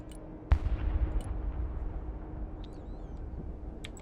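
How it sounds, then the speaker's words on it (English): Artillery fire in the video game Broken Arrow: a sharp heavy boom with a rolling rumble after it, then lower distant thuds and faint clicks over a steady background hum. "Artillery at your command, sir."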